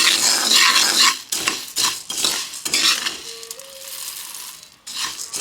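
Scrubbing a cooking pot by hand with soap and ash, a steady rough scraping and rubbing that comes in repeated bursts with brief pauses, loud and close.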